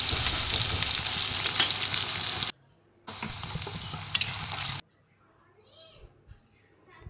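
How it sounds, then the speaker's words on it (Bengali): Chopped onion frying with ginger and garlic in a pan for pasta soup, a loud, steady sizzle with stirring that cuts off briefly, resumes, then stops, leaving faint background sounds. "রসুনের সঙ্গে পেঁয়াজটাকে ভেজে নেব।"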